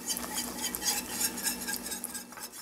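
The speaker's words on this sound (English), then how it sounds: "Now keep whisking and adding a little bit of milk at a time." Milk being whisked a little at a time into a roux for bechamel in a pan, with quick rhythmic scraping and clinking of a whisk against metal and a faint sizzle underneath, close and continuous.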